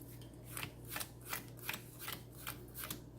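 A deck of Magic: The Gathering cards is shuffled and cut at a table, giving a quiet, close run of about eight evenly spaced riffling bursts, with no one speaking.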